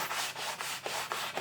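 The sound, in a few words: sanding a guitar fretboard with 240 grit sandpaper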